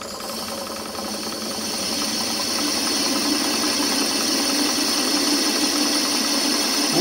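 Myford ML7 lathe spinning at its lowest belt speed of 379 RPM, a steady mechanical whir and hum with a faint rhythmic knock, running alone and growing slightly louder over the first seconds.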